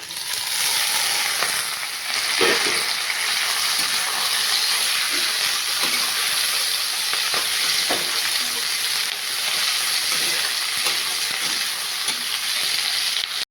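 Cabbage being stir-fried in a pan for a chicken roll, giving a loud, continuous sizzle with occasional soft clicks of stirring throughout, with no talking.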